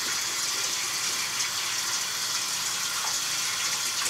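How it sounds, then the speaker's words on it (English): Tap water gushes steadily as a shaving brush is rinsed out during a wet shave, a loud, even hiss of running water close by. "When you wash out the brush,"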